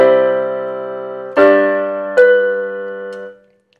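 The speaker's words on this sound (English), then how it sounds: "the most common type of suspension is a 4/3 suspension" A 4/3 suspension plays as a sustained chord whose suspended fourth shifts down to the third, the held tones restruck twice before fading to silence, clean and close.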